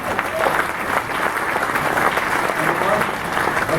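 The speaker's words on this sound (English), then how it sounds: "everybody give them a round of applause" An audience at a wrestling-world awards banquet applauds honored announcers, a continuous wash of many hands clapping at moderate distance, with a speaker's voice faintly under it.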